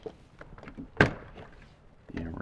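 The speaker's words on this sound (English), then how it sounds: "Now we're going to hang the door panel on the edge of the window." A Toyota Tundra door panel is hung onto the window edge, giving one sharp, close plastic thunk midway through. Faint handling rustle and low background noise surround it.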